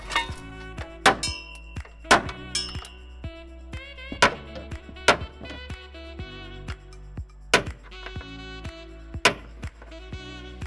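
Steady, ringing metal-on-metal hammer strikes on a 1995 Ford Bronco 4x4 as the radius arm bushings are driven out. Roughly two blows per second carry sharp clanks and metallic ring over about ten seconds, and nobody talks.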